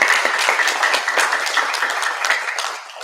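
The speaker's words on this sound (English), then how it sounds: "Let's give him a round of applause." A church audience gives a round of applause. The clapping is dense and even, fairly close and loud, and thins slightly toward the end.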